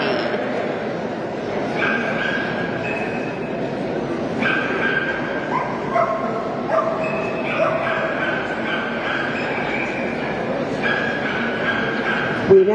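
Terriers, including a Bull Terrier, yip, bark and whimper in short repeated bursts at an indoor terrier show, heard fairly close over a steady murmur of crowd noise.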